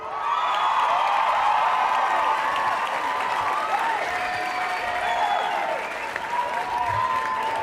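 An applause sound effect plays during a live stream, a dense, sustained wash of crowd clapping with faint cheers, steady and loud for nearly eight seconds.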